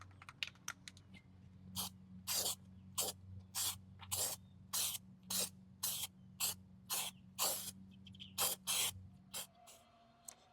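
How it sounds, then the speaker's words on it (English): Spray paint is applied to the bumper and trim of a Mercedes Sprinter van in a rhythmic run of about a dozen short, close hissing bursts, with quieter clicks and a low hum beneath. "so let's start spraying"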